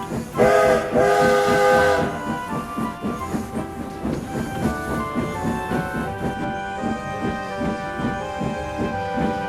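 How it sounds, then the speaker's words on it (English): A loud, piercing steam locomotive whistle blast at the start, followed by chugging rhythmic train sounds with tonal music playing underneath, from a Thomas the Tank Engine fan animation. "the engines heard an unfamiliar whistle as a new Railtour train pulled into Knapford"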